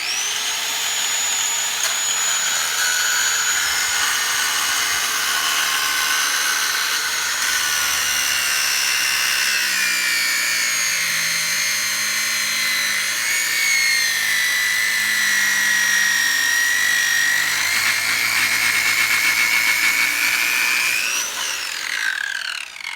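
Angle grinder with a cutting wheel slicing through old, rock-hard Orangeburg sewer pipe, a steady loud high-pitched whine and grinding screech running continuously for the whole stretch, pitch dipping slightly under load before it winds down at the end.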